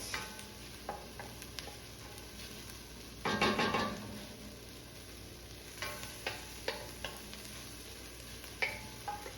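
Garlic cooks in a pan at the start of a ground turkey chili. A quiet background sizzle runs under spatula stirs and scrapes, with one stronger stirring burst midway and scattered light clicks. No one speaks.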